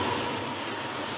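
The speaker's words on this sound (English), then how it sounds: "A train is coming." A train rolls through a railroad crossing, a steady, loud, close rumble of wheels on rails with faint squeal, continuous throughout and with no voices.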